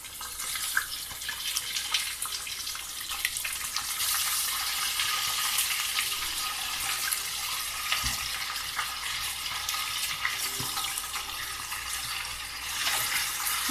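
Raw chicken pieces being washed in water for biryani, a steady splashing and sloshing that runs close and fairly loud for the whole stretch, with no one speaking.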